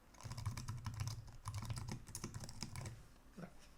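Steady, rapid keystrokes on a computer keyboard as RPG code is typed for an IBM i (AS400) program, clicks tightly spaced and continuous for nearly four seconds, fairly close and moderately quiet, with no talking.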